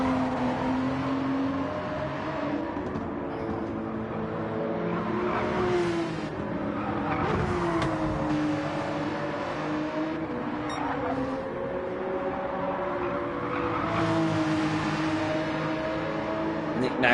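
Race cars crossing the finish line on the last lap of a four-hour endurance race at Suzuka, one running on badly worn front-right and rear-left tyres, give a steady engine drone with rising and falling pitch under continuous commentary.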